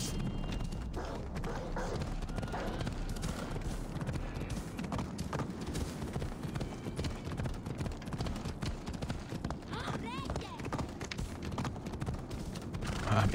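Horse hooves clip-clop steadily while riding in Assassin's Creed Odyssey, a continuous rapid galloping rhythm at moderate volume over ambient game sound.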